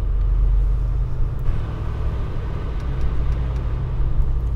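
A 2022 Mercedes G63 AMG G-Class rolls along with a deep, steady engine rumble and road noise heard from inside the cabin, even and continuous, without any speech.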